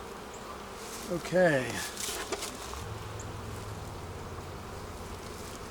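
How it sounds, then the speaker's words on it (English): Honeybees in an opened hive make a dense, steady drone close by, and a brief spoken word sits over the constant buzzing. "boy, we have a lot of bees"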